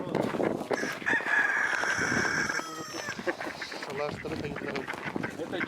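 A rooster crows with a long, loud cock-a-doodle-doo over the first half of the clip, set in a farmyard shed alongside a hen, with other fowl and a voice faintly audible around it.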